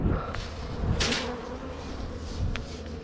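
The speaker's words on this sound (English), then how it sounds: "I'm gonna shake some younger bees at the landing board on that hive" Honey bees buzzing at a hive landing board, a dense close hum of many insects running continuously with a couple of brief rustling knocks.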